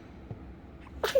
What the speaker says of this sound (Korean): 재채기 하는 거 봐봐